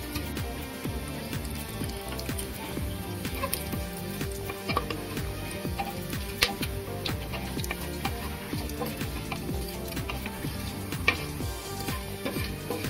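Whole cumin, whole garam masala and bay leaf sizzling in hot oil, a low continuous crackle with scattered tiny pops and ticks, close and quiet, no talking.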